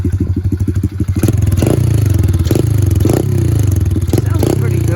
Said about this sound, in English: You want to rev it up a couple times